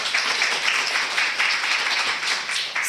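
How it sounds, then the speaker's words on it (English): An audience gives a round of applause for presenters at an academic talk, a continuous patter of many hands clapping at moderate loudness, fairly even with slight swells, no voices over it. "If we can give them a round of applause."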